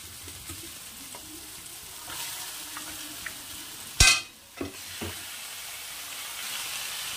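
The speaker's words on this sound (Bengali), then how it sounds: "এখন আমি ধুয়ে রাখা মাংসটা এর মধ্যে দিয়ে দেব" Raw chicken goes into hot, already-fried spice masala in a pan, setting off a sudden loud burst of sizzling that fades, followed by a couple of short stir scrapes over a steady background hiss.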